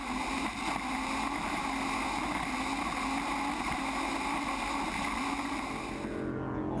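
An offshore racing powerboat, Lucas Oil, roars steadily at speed off Sicily while lapping another boat, a continuous droning engine whine over wind and water rush, fairly distant and even throughout.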